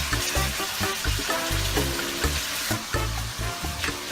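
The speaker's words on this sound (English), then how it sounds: "So now we're sizzling up the chicken just to brown it." Chicken browning in a hot pan for a mole sizzles and crackles steadily, loud and close, with no one talking over it.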